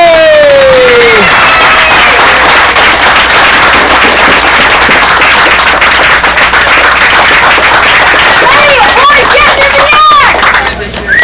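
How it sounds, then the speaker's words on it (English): At the awards ceremony of a fly-in contest, a crowd claps loudly for the volunteer runners and helpers, a dense continuous ovation with a few scattered voices rising through it. "Let's give them a big round of applause."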